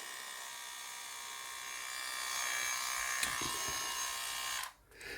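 An Aldi cordless rotary tool spins at high speed up to its 25,000 RPM maximum, a thin whining buzz that climbs slightly in pitch and intensity, then cuts off abruptly near the end.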